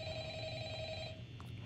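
A telephone rings in the video game Five Nights at Freddy's, a steady electronic trill with sustained tones that cut off after about a second, over a low background hum.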